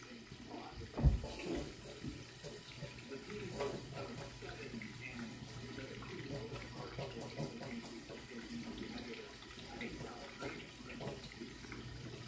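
Tap water runs steadily into a kitchen sink while hands are washed after dredging chicken for frying, a continuous faint splashing wash with a brief louder knock near the start.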